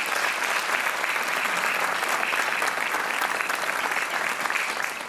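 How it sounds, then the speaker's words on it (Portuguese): Studio audience on a Portuguese TV quiz show breaks into loud, sustained applause, a dense even wash of clapping that holds steady from start to end. "Um aplauso para o Sérgio Santos, que hoje é o nosso Super Joca."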